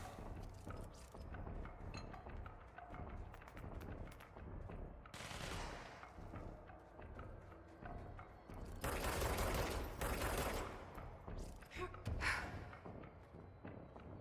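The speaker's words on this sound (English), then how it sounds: "I don't know what they're shooting at" Gunfire in the video game Control, dense and continuous with louder bursts and scattered impacts over a busy game soundscape, with mechanical noises and footsteps mixed in.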